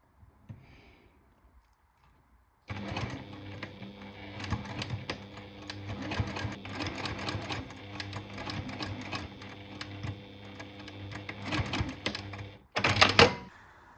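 A sewing machine runs steadily, stitching the edges of jersey fabric, with a rapid mechanical chatter that starts after a near-silent moment and carries on, ending with a brief louder burst.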